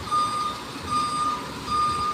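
A truck reverses with three evenly spaced electronic beeps, each tone sustained for about half a second, sounding over a low idling engine rumble.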